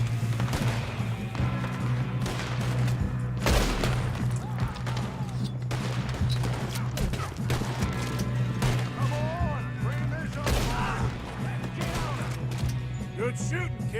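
Gunfire in the video game Red Dead Redemption 2, scattered sharp shots and cracks over a steady low rumble, with voices talking throughout.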